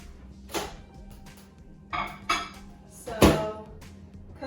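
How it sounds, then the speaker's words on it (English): A lid being pressed onto a plastic microwave container, heard as several close, sharp plastic clacks and snaps spaced irregularly over a few seconds against a quiet background, no talk. "I'm gonna make sure the lid is on properly"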